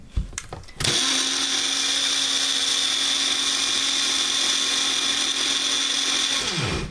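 A countertop blender whirs loud and steady for about six seconds while blending an iced eggnog latte, after a few brief clunks as the jar is set in place.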